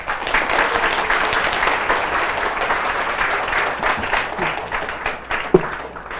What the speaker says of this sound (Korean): 열정적인 강의를 해주신 에메랄드 이정덕 강사님께 다시 한번 큰 박수 부탁드리겠습니다.